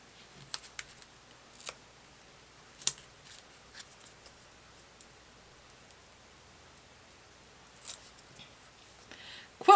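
Scissors cut a long adhesive foam square in half for a quilt-style Santa card, giving a few faint, crisp snips and light papery rustles in a quiet room.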